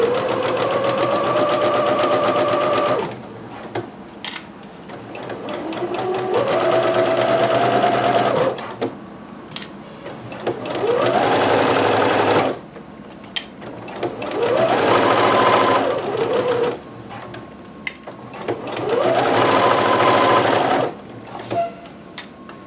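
Sewing machine stitching a kimono seam and backstitching, running in four or five steady whirring bursts with short pauses between them, close and loud.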